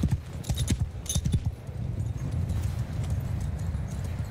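Galloping horses in a Mount & Blade 2 Bannerlord battle, a rapid clatter of hooves close at first and then blurring into a dense rumble of massed cavalry, with no talk over it.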